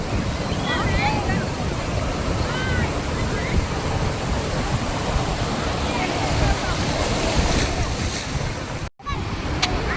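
Ocean surf rolls in steadily at Nagaon beach in Alibag, a loud, continuous wash of breaking waves with wind buffeting the microphone, faint voices in the background and a brief dropout near the end.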